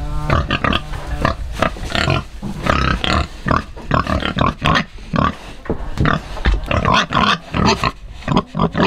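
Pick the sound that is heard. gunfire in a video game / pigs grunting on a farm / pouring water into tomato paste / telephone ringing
pigs grunting on a farm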